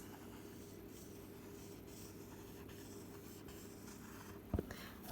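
A fingertip rubs steadily across a hard slate surface with a soft, continuous scratchy friction, close and quiet, ending with a brief louder scrape.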